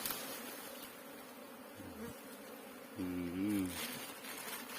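Ground-nesting bees buzz from inside a termite mound, a dense continuous drone close by with a louder swell of wingbeats near the end, and voices briefly heard over it.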